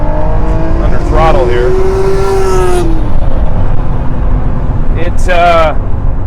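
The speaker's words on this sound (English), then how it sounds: "give you an idea what it sounds like under throttle here" Acura NSX V6 with a Pride titanium exhaust heard from inside the cabin under throttle, with two sharp rising revs climbing through the gears and a steady engine drone between them.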